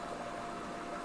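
A steady mechanical hum and hiss of an aquarium water change system running continuously, close by and moderately loud, with no voices.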